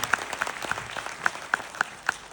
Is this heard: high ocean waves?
no